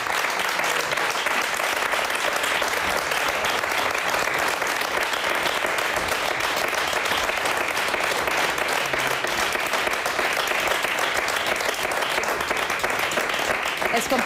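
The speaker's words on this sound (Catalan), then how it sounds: "Els companys aplaudeixen Leonardo Ramon i fan molt bé" Colleagues in a radio studio applaud, a loud, close, dense burst of clapping that runs steadily without break, with voices talking underneath.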